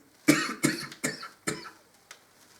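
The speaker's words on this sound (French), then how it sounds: "excusez-moi, je tousse toujours" Four sharp coughs from a person with a recurring cough in quick succession, then a fainter fifth, close to the listener with quiet gaps between them.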